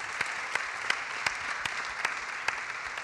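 Audience applause at the Elle Active 2016 conference in Paris, a steady wash of clapping with a few sharper claps standing out, moderately distant and continuous for the whole stretch.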